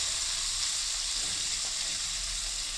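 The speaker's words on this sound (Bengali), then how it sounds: "এবার এই টমেটো দিয়ে দিলাম। টমেটোর গন্ধটা যতক্ষণ না যাচ্ছে ততক্ষণ একটু নেড়ে নেব।" Chopped tomatoes stirred in a pan for a Bengali moong dal with stems give off a steady, even sizzling hiss throughout, close and moderately loud, with no talking.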